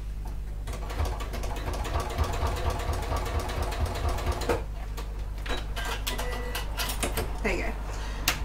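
A sewing machine stitches the seams of a fabric clutch bag. Its motor runs as a steady, close, mechanical whir, with a brief pause partway through before the stitching resumes.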